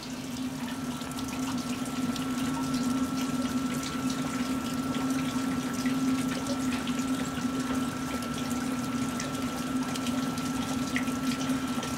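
Maple sap rushes fast through a tubing line at a sugar bush, a steady close-up gurgling water flow with a constant tonal hum, unbroken and with no voices.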